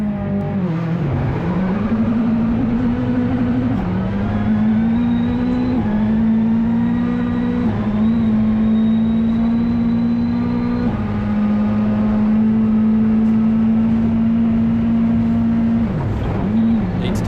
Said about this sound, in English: setting a time that was going to be well outside Hayden's comfort zone while driving a piece of New Zealand rally history